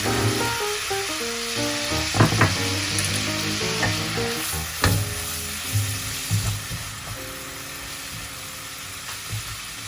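Garlic pieces hit a hot pan for white sauce pasta and sizzle steadily for about ten seconds, with a few sharp clicks and scrapes of stirring rising over the hiss.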